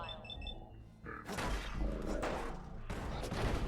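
Enemy gunfire in Fallout 4 breaks out after a few short electronic beeps, a dense, loud fusillade of shots and impacts that continues steadily to the end.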